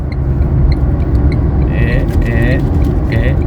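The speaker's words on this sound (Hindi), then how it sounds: "मेरी गाड़ी नेक्सॉन गाड़ी है, 1 मिनट सीधी चल ले बे" A Tata Nexon car driving along a road, with steady broadband engine and tyre rumble throughout, and faint chirping or squeaky sounds joining toward the end.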